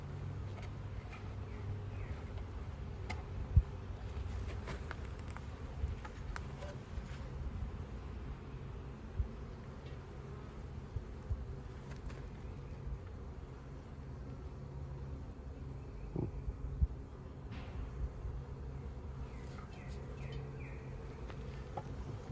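Bees in a swarm trap hum as a low, steady drone with faint scattered buzzing passes, heard close and continuous with no talking.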